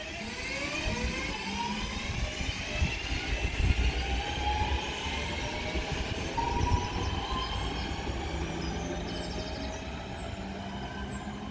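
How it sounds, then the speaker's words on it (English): A Northern Class 323 electric passenger train pulls away from Heaton Chapel station, its motor whine rising in pitch over a steady rumble of wheels on track, fairly close, no voices. "Now departing is going to be 323239, which will form the 1515 Northern service to Crewe"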